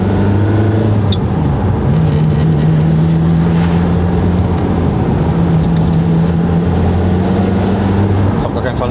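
A Ferrari F355 convertible on air suspension, heard from inside while driving, gives a steady low engine drone with a sustained humming tone that shifts slightly in pitch throughout.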